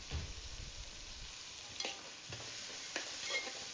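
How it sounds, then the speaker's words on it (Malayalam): Thinly sliced onions sauté in coconut oil with a steady soft sizzle, while a spoon stirs them in a few scraping strokes close by; no one speaks. "സവാള നന്നായി വഴന്ന് വരട്ടെ, അതുവരെ ഒന്ന് ഇളക്കി കൊടുക്കാം."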